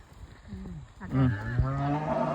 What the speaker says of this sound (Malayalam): പോണ വഴിക്ക് നമ്മുടെ റോട്ടിൽ കൂടെ പശു പോകുന്നുണ്ട്.